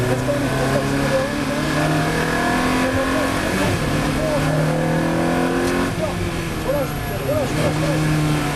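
A Ferrari F430 Challenge GT4 accelerates on a race track, its engine note rising steadily through the gears, heard loud from inside the car. A voice speaks over it throughout.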